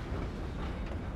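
A train rolling along rails in the Red Dead video game, a steady dense rumble with a faint clickety-clack of wheels, continuous and fairly close, with no voices.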